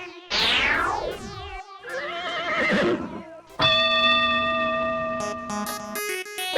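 A horse gives loud, shrill whinnies in drawn-out, quavering bursts, followed by a bright sustained musical tone with sharp electronic stabs.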